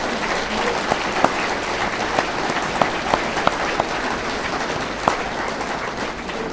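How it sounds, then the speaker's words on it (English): An audience at the Lakeside Complex applauds steadily, with many hands clapping in a broad, even wash and a few sharper, louder claps standing out near the front. "I think he deserves a round of applause from all of"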